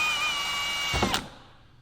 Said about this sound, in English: I don't want it to split the plastic. That's why I'm drilling it.